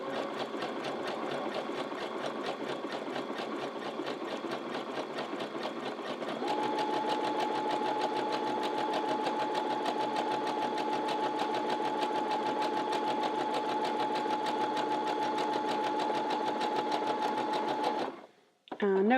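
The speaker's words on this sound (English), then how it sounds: "So I'm now just going to stitch all the way down here." A sewing machine stitches steadily along a cushion fabric edge, a continuous close mechanical whir that holds an even pace for most of the clip before stopping abruptly near the end.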